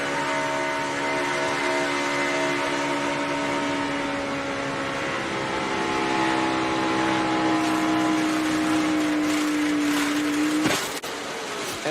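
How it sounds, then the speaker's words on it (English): NASCAR truck failing tire at speed, a loud steady engine and road roar with a droning tone that rises and holds, then ends abruptly in a sharp break near the end, no talk. "you start to hear the tire flopping"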